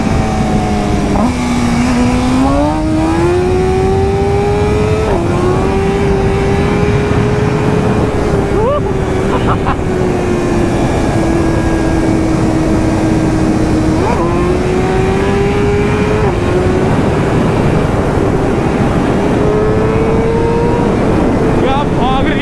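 Loud, close engine howl from a BMW S1000RR motorcycle accelerating hard on a road, its pitch climbing and dropping with several gear shifts over steady wind rush.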